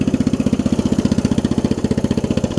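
A Murray widebody riding mower engine, running on a new carburetor and fuel lines, idles low and steady close by, its even chugging pulses repeating rapidly with no other sounds.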